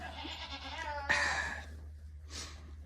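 Goat sick with listeria bleating close by: a wavering cry, then a sharper, louder bleat, followed by a short breathy call against a low hum.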